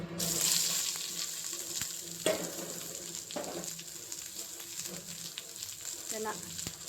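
Chopped shallots frying in oil, a quiet steady sizzle with occasional sharper clatters and scrapes of a stirring utensil, close but fairly soft, no talking.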